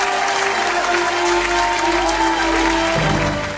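Loud, sustained applause from a live gospel singing competition audience, a dense wash of clapping that stays full and close for the whole stretch, with some tonal sound underneath.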